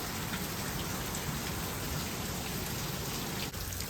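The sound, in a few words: loud rain on a tent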